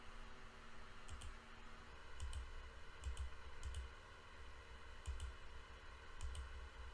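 Soft, faint typing on a computer keyboard while working in an Excel spreadsheet, short bursts of clustered key taps spread across a quiet hiss.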